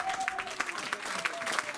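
A church congregation applauds and acclaims the Lord during a sermon by pastor Matou Salem, scattered clapping and crowd noise over a faint sustained tone, moderately quiet and brief.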